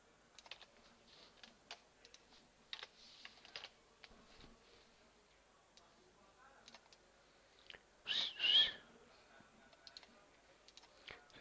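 Computer keyboard typing for a software search on an Ubuntu Linux machine, with quick scattered key clicks in short bursts, close and quiet, and one louder clattering burst near the end.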